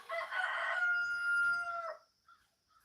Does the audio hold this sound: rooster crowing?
yes